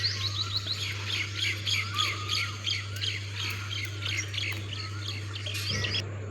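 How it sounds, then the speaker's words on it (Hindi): Birds chirp and tweet in quick, overlapping calls in a park in the morning over a low steady hum, busy and moderately close throughout. "यहाँ पर जो चिड़ियों की चहचहाने की आवाज़ थी ना"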